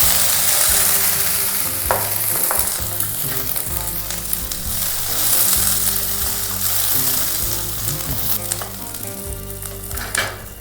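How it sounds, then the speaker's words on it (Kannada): Seven or eight green chillies fry in hot cold-pressed oil, a loud, steady crackling sizzle with spatter pops and occasional stirring scrapes throughout, no voices. "ಸೊ ಎಣ್ಣೆ ಕಾದಿದೆ. ಇದಕ್ಕೆ ಒಂದು 7-8 ಹಸಿಮೆಣಸಿನ್ಕಾಯಿ ಹಾಕೊಂಡಿದ್ದೀನಿ."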